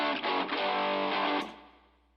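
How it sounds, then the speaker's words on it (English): Electric guitar played through a single-coil pickup with coil tap, given a thin telephone-style filter and heavy effects in a pop punk intro: a loud sustained distorted chord ringing, cut off and fading out after about a second and a half. "But what I did for these intro guitars, I used the coil tap. It kind of thins out the sound a little bit for you"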